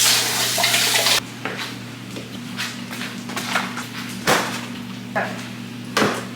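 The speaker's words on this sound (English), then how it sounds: "first I'm gonna wash my hands" Tap water runs into a kitchen sink while hands are washed, a steady hiss broken by a few louder splashes and clunks; the loud gush stops early and the flow continues softer.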